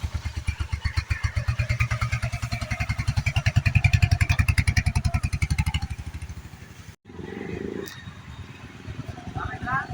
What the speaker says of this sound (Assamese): সপোনৰ বাইকখন চলাওঁ আজি